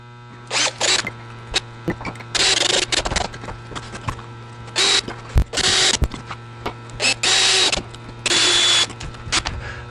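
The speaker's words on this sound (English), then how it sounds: "Probably want to set your drill to low speed." A power drill set to low speed whirs in repeated short bursts while driving wood screws, about eight runs of a second or so separated by pauses, close by over a low steady hum.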